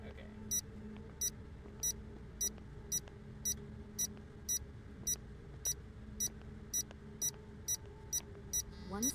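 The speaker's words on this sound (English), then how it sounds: "This beeping is super annoying." Repeating electronic beeps from the video game Nancy Drew: Mystery of the Seven Keys, quick high bleeps at a steady pace of roughly one every 0.7 seconds above a soft background drone.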